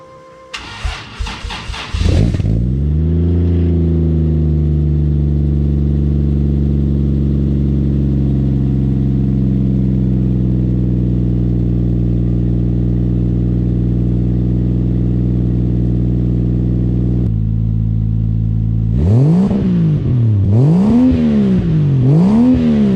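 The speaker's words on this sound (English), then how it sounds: "I guess I can give you guys a little taste of the exhaust real quick" A Lexus IS300 car engine with a boost leak cranks and catches, settles into a loud, steady idle close by, then drops in pitch before revving up and down several times.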